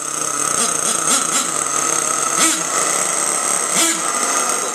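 A nitro-powered Savage RC car's F4.6 engine runs steadily near at hand, a buzzing, high-pitched drone with a few short revving blips rising over it.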